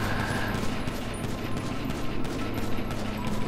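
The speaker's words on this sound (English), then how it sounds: "Let's see what we can do with these pistols. We're all just shooting over there." Pistol fire rattles in Grand Theft Auto V, a dense, continuous stream of overlapping shots at moderate loudness with no clear gaps between them.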